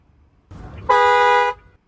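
A single short, loud dual horn honk from an MG Windsor EV blares for about half a second, close by, after a low rumble.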